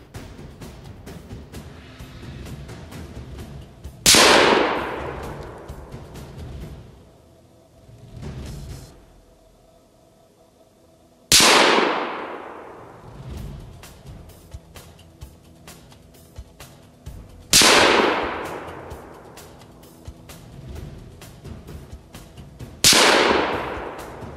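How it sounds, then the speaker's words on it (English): Five sharp gunshots fired with a BlackJax at an outdoor range, loud cracks spaced several seconds apart, each followed by a long decaying echo, with quieter clicks and handling sounds between shots. "5 rounds with the BlackJax."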